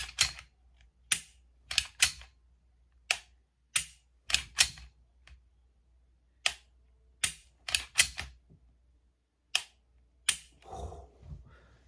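Sharp dry clicks from a Canik pistol trigger being dry-fired, about a dozen crisp snaps in an irregular rhythm, close and alone, ending with a brief soft rustle.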